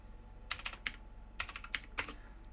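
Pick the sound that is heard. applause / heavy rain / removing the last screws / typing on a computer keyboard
typing on a computer keyboard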